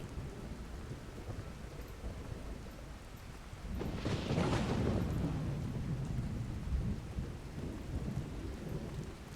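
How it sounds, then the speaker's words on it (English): Steady rain patters in the video game Skyrim Special Edition, then a deep rumble of thunder rolls in and lingers loudly before easing back under the continuing rain. "that thunder sound, that's good"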